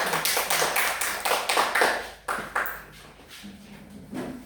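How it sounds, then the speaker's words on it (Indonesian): Second-grade schoolchildren in a classroom clap for their group, a series of quick rhythmic bursts of claps that come in waves, loud at first and then fading into scattered, lighter claps. "Maka kita harus memberikan tepuk tangan"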